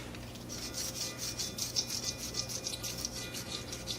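An oiled blade is scraped back and forth across an old metal square, giving a soft, rhythmic rasping at close range that repeats roughly every quarter second with no voices.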